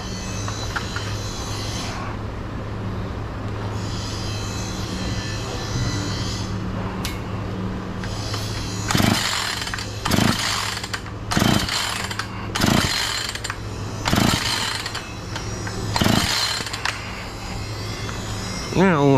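A Husqvarna chainsaw with idle trouble being started and run, its engine droning steadily before a series of loud revving bursts in the second half; no talk is evident.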